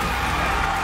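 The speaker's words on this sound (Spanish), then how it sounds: "Démosle un aplauso, por favor." An audience applauds and cheers for a dance group on a televised dance competition, a brief, steady wash of clapping and crowd noise at moderate distance.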